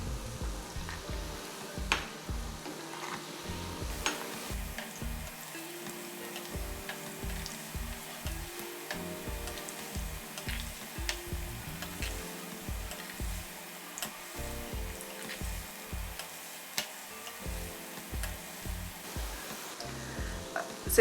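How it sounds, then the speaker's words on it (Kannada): Masala cashew biscuits deep-fry in hot oil over a medium flame, giving a continuous soft sizzle with scattered ticking pops throughout, close and moderately quiet. "ಈಗ ಫ್ಲೇಮ್ನ ಮೀಡಿಯಮ್ಗಿಟ್ಟು ಗೋಲ್ಡನ್ ಬ್ರೌನ್ ಆಗೋ ತನಕ ಚೆನ್ನಾಗಿ ಡೀಪ್ ಫ್ರೈ ಮಾಡೋಣ."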